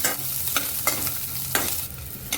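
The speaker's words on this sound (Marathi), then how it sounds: "थोडंसं तेलावरती लसूण आपल्याला परतून घ्यायचं" Garlic fries in oil in a pan for a spicy prawn masala, a constant close sizzle punctuated by four or five sharp spatula stirs against the pan.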